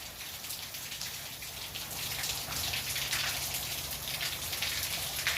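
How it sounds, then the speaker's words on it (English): Light rain from Tropical Storm Fred falls steadily in Panama City, Florida, a close, even patter of drops on surfaces that grows slightly louder and denser partway through. "It's not raining too bad, but I'm sure it's going to get worse."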